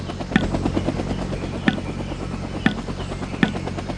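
An aircraft in the Vietnam 65 video game flies with a steady, low rotor-like thrum, while sharp, bright clicks or impacts cut through at regular intervals.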